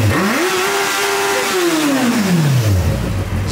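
Motorcycle engine revs loudly and close by, climbing quickly to a high held whine, then sweeping back down as the throttle closes, over a rough, steady mechanical rumble.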